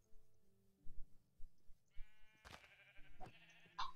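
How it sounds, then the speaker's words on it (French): Sheep bleating in the Minecraft video game, several short bleats in quick succession near the end, loud and alone over faint background game sounds. "on va aller tuer les moutons là."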